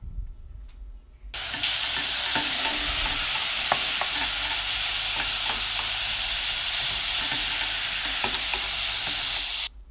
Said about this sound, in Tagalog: So ako lang na siyang giukay-ukay para mapatas tanan og luto and mabalance siya.